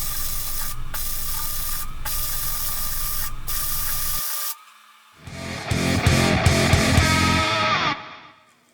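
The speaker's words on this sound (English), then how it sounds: "just slowly work your way around with the welding" Welding legs onto a propane tank wood stove produces loud, sustained hissing and crackling arcs, first in several long runs broken by short pauses, then a brief quiet gap before a final harsher burst that fades out.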